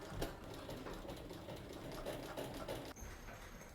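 A sewing machine stitches a handmade leather bag with a steady rapid whirring chatter that runs continuously, then changes tone abruptly near the end.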